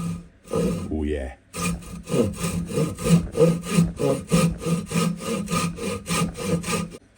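Hand saw cutting a planed piece of wood clamped in a vise, steady rhythmic rasping strokes close up, biting on each pull, after a brief scrape at the start.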